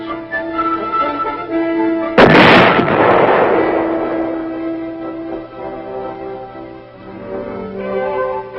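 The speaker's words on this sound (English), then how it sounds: "record the motion of the gun barrel with respect to the entire vehicle as the projectile leaves the muzzle and the weapon recoils" A vehicle-mounted gun fires a projectile during weapons testing at Aberdeen, one loud sharp blast followed by a long rumbling decay, heard alone over a steady mechanical hum.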